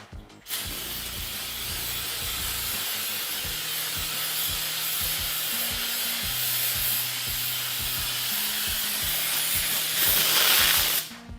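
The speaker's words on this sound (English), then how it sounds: "Now, I'm just gonna simply spray some silly string on it and see what happens." A can of silly string hisses steadily as it sprays onto a cake, one long continuous aerosol rush lasting about ten seconds, with low thumping and rumbling underneath.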